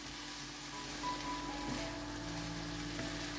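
Eggplant and vegetables sautéing in a pan, giving a steady, soft sizzle that holds at an even level throughout, with faint crackles and no talking.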